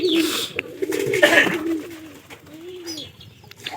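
Pigeons coo in soft, rounded low calls, several separate phrases rising and falling across a few seconds, close by, with faint rustling and background noise between the calls.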